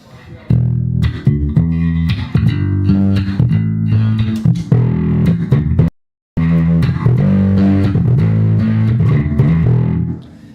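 Bass guitar through the overdrive channel of a Blackstar Unity bass amp plays a riff with a gritty, distorted tone, loud and close, breaking off for a brief moment of silence before continuing.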